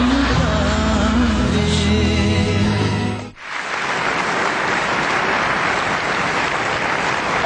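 Studio audience applause at a television comedy show, a dense roar of clapping that briefly dips and swells back, loud and continuous with no speech over it.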